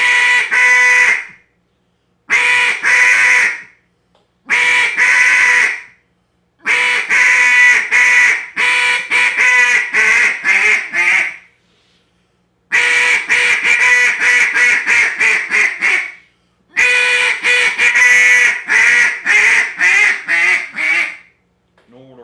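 A hand-blown duck call sounds a long series of quacks in separate bursts, shifting from a smooth, clean tone to a raspier, buzzier one, loud and close with short pauses between the runs.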